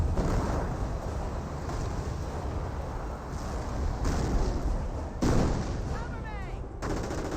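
Artillery barrages in Company of Heroes 1, a steady rumble of booming blasts and gunfire through a dense battle, with louder impacts near the end.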